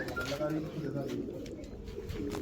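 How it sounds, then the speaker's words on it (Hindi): White pigeons coo softly nearby at a mosque while people talk over them and background noise fills the space. "सफ़ेद कबूतर आ गए भाई कर लोगे।"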